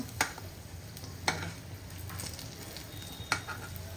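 Chili pakoras (mirchi bhaji), large green chillies coated in batter, sizzling steadily in hot oil, a soft continuous fry broken by three sharp clinks of a stirring utensil, fairly quiet and with no voices.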